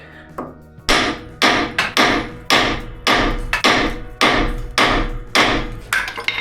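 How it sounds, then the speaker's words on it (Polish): A small hammer strikes a tensioned puller bolt on a Ford Galaxy 2.3 axle, about ten sharp metallic blows in a steady rhythm, close and loud, each ringing briefly before the next. "Jak już mamy napięte, biorę młoteczek,"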